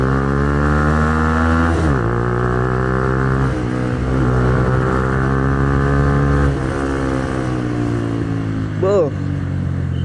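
A 2010 Minerva R150 VX motorcycle engine hums steadily, its pitch dropping and rising as gears shift, close and loud, with brief speech near the end.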